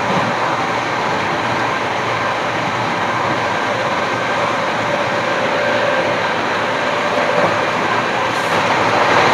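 Inside the Shabd Bhedi Super First Express, a constant loud rumble of the moving train carriage fills the space evenly, with a faint steady whine and no voices.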